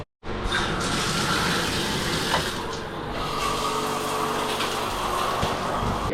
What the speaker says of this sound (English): Let's shower now.